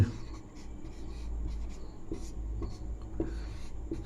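Chalk or marker scratching steadily across a board during a maths lesson on divisibility rules, a continuous close scraping with short strokes, over a low background hum and no speech.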